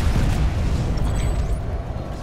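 A Sunderer vehicle blows up in the video game PlanetSide 2, a loud, dense, rumbling blast that fills the whole moment without letup and fades slightly toward the end.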